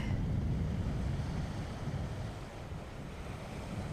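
Ocean water crashing up against rocks along a beach shoreline, a continuous loud roar of surf with wind buffeting the microphone, steady and close with a slight dip midway.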